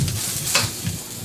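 Ginger sizzling in hot peanut oil in a wok for a Cantonese-style squid stir fry, with a dense, steady frying hiss and a brief louder crackle midway, heard close.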